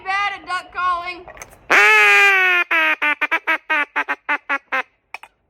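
A duck call blown in imitation of duck quacks: a few short nasal notes, a long loud drawn-out quack, then a descending cadence of about a dozen rapid quacks tapering off, close and loud.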